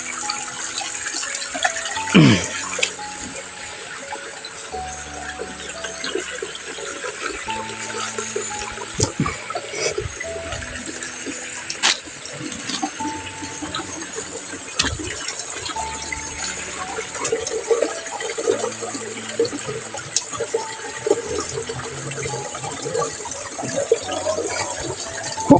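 Water runs steadily from a pipe outdoors, a continuous broadband gush with scattered splashes and small knocks, fairly loud and close throughout, with no speech over it.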